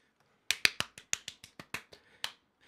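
About a dozen sharp, close hand claps ring out in an uneven rhythm in a quiet room, each crisp and separate, with a couple of softer claps trailing at the end.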